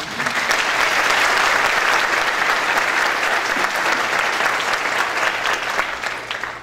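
Sustained audience applause at an opening ceremony for the organizing team, a dense, steady wash of many hands clapping at close range for several seconds without a break.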